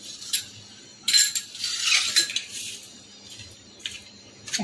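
Marinated raw jackfruit pieces being mixed by hand with cornflour and flour in a bowl, a soft squelching rub broken by a few sharp clinks of utensils against the bowl, close and fairly quiet.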